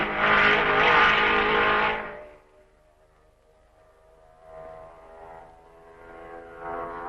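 Formula One race cars at the 1955 Belgian Grand Prix at Spa, passing Stavelot: a loud engine roar sweeps past for about two seconds, then fades, and a more distant car swells and passes again.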